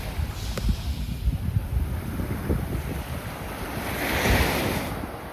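Surf breaks on the shore at Magens Bay Beach on St. Thomas in the Virgin Islands, a continuous wash of waves with steady wind buffeting the microphone, the surge swelling louder toward the end.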